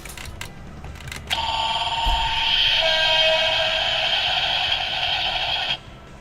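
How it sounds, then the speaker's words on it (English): Electronic train sound effect from a DX Gunbir-Oh transforming toy: a steady, loud tonal whistle-like chime that switches on abruptly after a few clicks and holds for about four seconds before cutting off. "It's a train."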